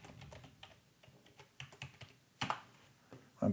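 A password is typed on a computer keyboard in short, uneven bursts of faint keystrokes, with a couple of sharper, louder key presses near the end.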